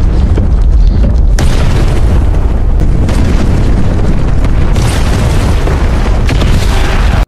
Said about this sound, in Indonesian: terowongan ini akan meledak